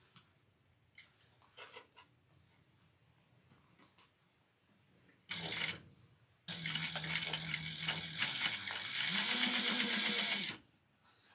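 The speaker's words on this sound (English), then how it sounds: "I'm sewing from the inside out so that way I can see my top stitching." A sewing machine stitches a holiday stocking, its motor whirring in two bursts, one short and one longer and steadier, after faint handling clicks, and the whir stops at the end.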